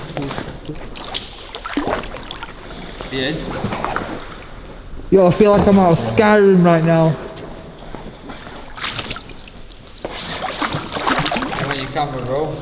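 Rowing a boat through water inside a cave, with soft sloshing and dipping sounds under frequent excited talking and echoing voices nearby.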